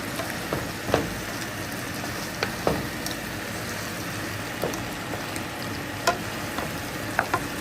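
Sardine sauce stirred in a hot pan, a steady sizzle with soft scraping stirs and occasional clicks of the utensil, heard close and without talk.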